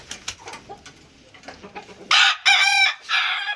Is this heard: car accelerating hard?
no